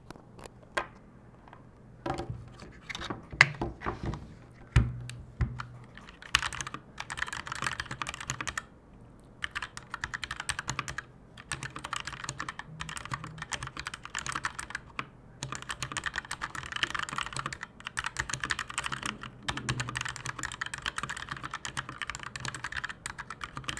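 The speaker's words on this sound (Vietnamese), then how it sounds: "Và các bạn nghĩ sao về cái âm thanh khi mà gõ phím này mình phang trên cái bàn phím Keytron" A Keychron K4 mechanical keyboard is typed on steadily for a long stretch, a dense, close clatter of quick clicky keystrokes with brief pauses, no voices.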